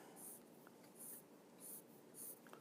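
Pen or pencil drawing on paper, with four soft, faint rhythmic scratching strokes evenly spaced in a quiet room.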